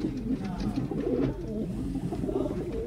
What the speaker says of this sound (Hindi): ये देखो भाई कल्सरों का जोड़।